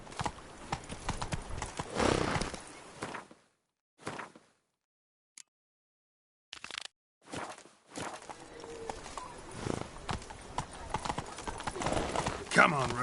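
Roach, a horse in The Witcher 3, clip-clops in a steady trot that cuts out into near silence mid-clip and then resumes, the rhythmic hoofbeats fairly close and clear.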